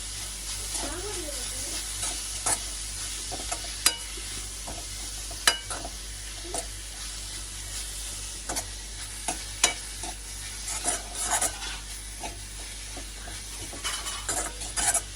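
Food is stirred in a frying pan after salt is added, with a soft steady sizzle punctuated by repeated spatula scrapes and light clinks against the pan, heard up close.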